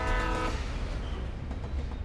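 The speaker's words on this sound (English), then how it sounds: "Oh, it's a train." A train horn in Alan Wake sounds one loud, brassy blast that fades after half a second, leaving the deep rumble of the passing train.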